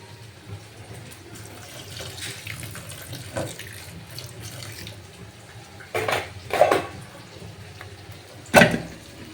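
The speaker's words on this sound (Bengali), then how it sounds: "আর উপর থেকে একটু ঠান্ডা জল দিয়ে দেবো।" Cold tap water runs over cooked pasta draining in a colander. Quiet, uneven running water is broken by a few louder splashes and clatters near the end.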